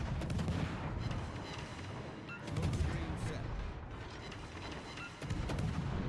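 Artillery and gunfire crack and boom repeatedly in a video game battle, with sharp bursts clustering at intervals over a dense, rumbling background of continuous combat noise.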